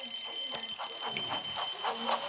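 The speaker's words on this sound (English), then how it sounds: "Soon came the alarm." An alarm rings steadily with a high, continuous tone on a railway, while a rhythmic pulsing tapping repeats beneath it throughout.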